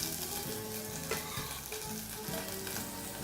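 Carrot trimmings sizzle and fry in hot oil in a pot, a steady dense crackle close up and continuous, with faint stirring knocks underneath.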